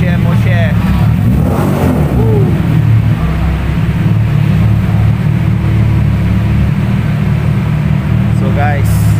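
A Porsche engine revving loudly at an open track day on a race circuit, a constant close roar with rising pitch sweeps, while a person talks over it.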